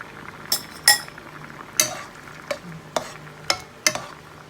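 Red curry in a pot being stirred, with a spoon clinking against the metal at intervals, about seven sharp clinks and scrapes over a soft, steady bubbling background.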